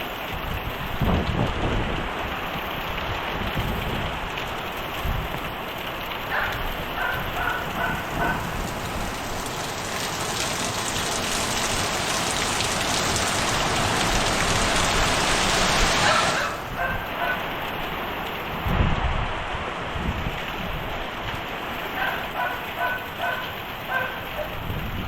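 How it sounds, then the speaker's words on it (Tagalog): Heavy typhoon rain pours continuously as strong wind gusts roar and swell, building to a loud surge before easing, with rumbling bursts throughout. "Grabe ang hagupit ng bagyo."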